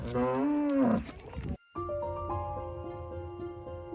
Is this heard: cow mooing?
yes